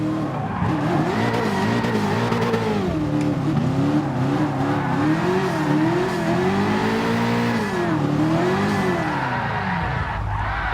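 A car drifting in Gran Turismo Sport, its engine wailing and rising and falling in pitch as the revs swing through the slide, with steady tire squeal underneath, loud and continuous.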